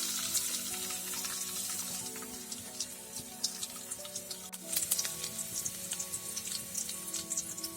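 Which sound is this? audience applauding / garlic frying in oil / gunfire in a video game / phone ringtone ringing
garlic frying in oil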